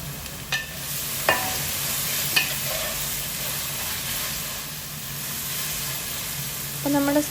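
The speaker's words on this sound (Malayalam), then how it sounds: "അപ്പോൾ നമ്മുടെ സവാള ഒന്ന് ഏകദേശം വഴണ്ട് തുടങ്ങിയിട്ടുണ്ട്. അപ്പോൾ നന്നായിട്ടൊന്ന് വഴട്ടാണ്." Onions sautéing in a pan for Kerala-style Angamaly mango curry hiss and sizzle steadily up close, with a few clinking stirs of a spoon against the pan scattered through.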